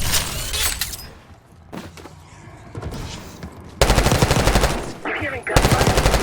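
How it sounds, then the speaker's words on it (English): Automatic gunfire rattles in rapid bursts in a Call of Duty Black Ops 6 campaign scene, muffled and distant at first, then a loud close sustained volley near the end. "I'm hearing gunfire. Yeah, sounds like it's coming from one of the lower floors."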